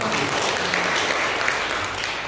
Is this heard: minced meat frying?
no